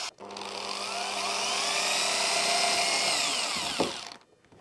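Power drill boring small holes for a motor stand on a homemade vegetable-cutting machine: one continuous high whine held steady for about four seconds, close and loud, ending with a brief click as it stops.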